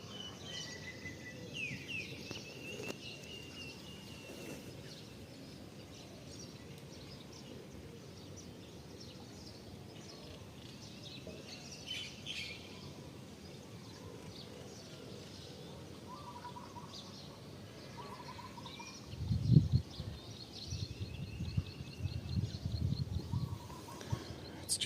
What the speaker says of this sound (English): Listen to all these birds.